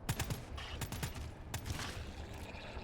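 Gunfire in the co-op shooter game GTFO, rapid faint bursts of automatic shots with low thumps, repeated in quick clusters across a few seconds at low level.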